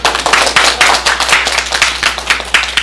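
A small seminar audience at a farm-business training session claps steadily, a dense close patter of many hands keeping up a loud, even round with no talk over it.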